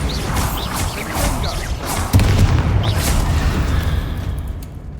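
Spell blasts in Hogwarts Legacy, including the Bombarda explosion, sound as a string of booming magical impacts in a room fight, with one heavier blast about halfway through and a rumbling tail after it.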